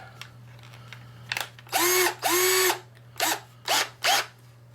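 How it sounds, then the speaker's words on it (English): A variable-speed drill with a small bit bores into a plastic speaker mic housing, whining up and down in pitch through about five short bursts, some longer, with a few brief blips between them, close and clear. "Grab my drill here, put on the small bit."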